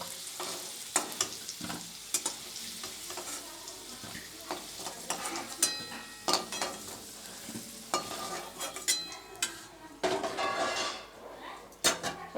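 Fried potatoes being lifted out of hot oil in a pan, with scraping clinks of a metal spatula against the pan over a constant sizzle, the clatter coming in irregular bursts.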